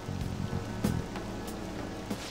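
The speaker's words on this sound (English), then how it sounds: "This rain ain't too bad." Steady rain falling in the video game Persona 5, a continuous soft hiss of drops on surfaces running throughout at moderate level, with a few louder bursts of game sound layered over it.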